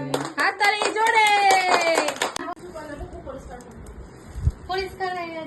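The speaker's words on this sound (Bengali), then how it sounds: "হাততালি জোরে।" Hand clapping at a birthday celebration, bursts of claps mixed with a sung birthday tune and children's voices, then thinner scattered claps amid chatter.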